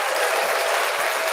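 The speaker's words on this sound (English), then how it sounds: "she deserves a hand clap of praise" An audience claps in praise inside a church sanctuary, a brief dense patter of many hands that stays steady and fairly loud with no voices over it.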